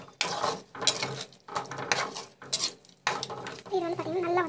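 A utensil stirs and sautés a tamarind fish curry in a pan, making rhythmic scraping and clinking strokes in repeated bursts. A voice comes in briefly near the end.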